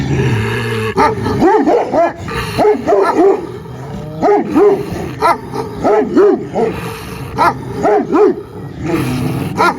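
Several Karabash shepherd dogs bark repeatedly in loud, overlapping bursts close by, mixed with yips and whines, continuing steadily throughout.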